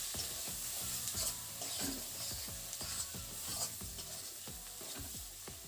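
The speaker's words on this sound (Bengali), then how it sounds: "এর মধ্যে দিয়ে দিচ্ছি হলুদ গুঁড়ো আর দেব জিরের গুঁড়ো এই মশলাগুলোকে এখন ভালোভাবে মিশিয়ে নিচ্ছি" Turmeric and cumin powder stirred into melted tomatoes in a pan, a soft sizzle under repeated scraping strokes of a spoon against the pan in a steady rhythm, with no voices.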